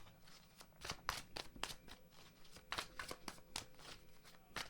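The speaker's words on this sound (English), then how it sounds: "let me pull a few more cards" Tarot cards are shuffled and drawn, a run of quick crisp riffling snaps and soft slaps in an irregular rhythm, close but quiet.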